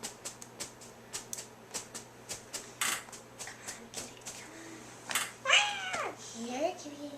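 A cat meows in a short series of rising and falling calls near the end, following a run of sharp clicking and tapping sounds, with people talking nearby.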